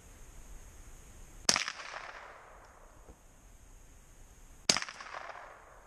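Two sharp gunshots at milk jugs outdoors, a few seconds apart, each a loud crack with a short echoing tail over quiet surroundings.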